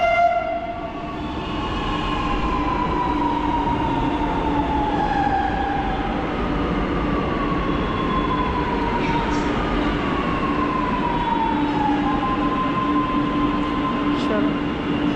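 A metro train runs with a steady, loud rumble, overlaid by sustained whining tones that slide slowly in pitch.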